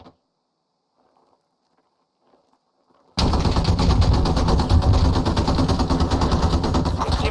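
Near-silence with faint scattered noises suddenly gives way to dense, loud automatic gunfire in a live fire exercise in the video game Squad, a continuous rattling barrage of rapid shots lasting several seconds.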